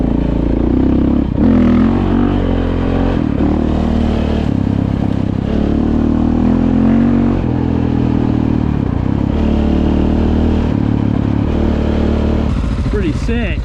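A 2016 KTM 690 Enduro R rides over gravel in the Appalachian backcountry in December, its engine droning loudly and continuously with revving swells and rattling clatter, while riders talk over it.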